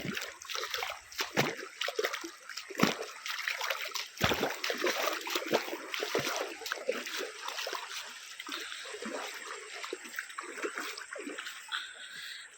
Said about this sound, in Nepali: यो चाहिँ मोरङको उर्लाबारी मा खोला